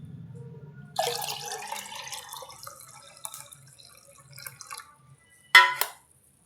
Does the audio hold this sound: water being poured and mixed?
yes